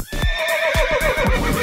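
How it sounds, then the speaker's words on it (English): A horse neighs in a loud, close whinny with a shaky, wavering pitch, with rhythmic thumping sounds beneath it that may be hoofbeats, over about a second and a half. "it's a horse makes that sound"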